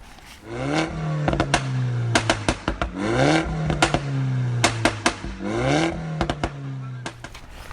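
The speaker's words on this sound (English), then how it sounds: "It's the all-new BMW M2 Competition." A 2019 BMW M2 Competition engine revving repeatedly, rising and falling through several climbs punctuated by sharp crackles and pops on the overrun, loud and close with no voices.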